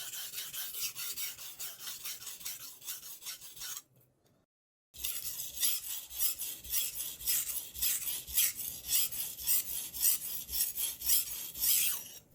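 A kitchen knife is sharpened from heel to tip in repeated close rasping strokes of steel on a stone, steady and rhythmic, broken by a brief pause before the strokes resume.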